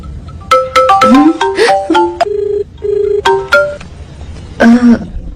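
A phone ringtone goes off in a Hindi-dubbed South Indian horror comedy film. Loud, bright electronic melodic phrases repeat in short bursts with brief gaps, and no one speaks over them.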